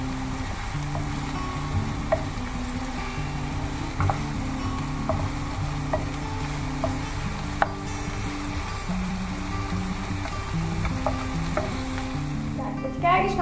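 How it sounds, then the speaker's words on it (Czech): Chopped onion sizzling in a hot pan for spaghetti meat sauce, with a spoon stirring and scraping in a steady rhythm under a continuous frying hiss, close up and with no talk. "když máme osmahnutou cibulku"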